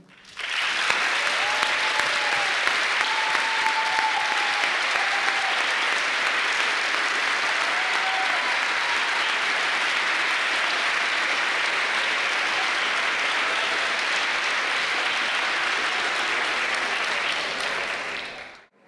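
A large audience at a university graduation ceremony applauds the graduates' families, with dense, sustained clapping that continues loudly and evenly for about eighteen seconds before cutting off. Faint voices are heard briefly under the noise.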